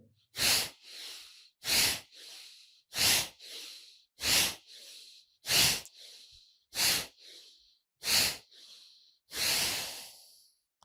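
Rhythmic forceful breaths in a yoga breathing exercise, nine sharp nasal exhalations at an even pace about every second and a quarter, close and loud with silence between, ending in a longer breath.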